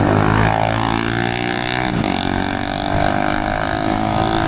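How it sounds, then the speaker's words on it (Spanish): A motorcycle engine revs up and down close by on Avenida 20 in Barquisimeto, Venezuela, pitch climbing and falling across several surges, loud and without speech. "Para esa moto hay que controlar el sonido"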